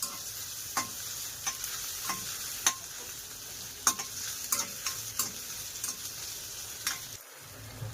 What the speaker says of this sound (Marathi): चांगलं परतून घेऊया आल्याचं वास जाईपर्यंत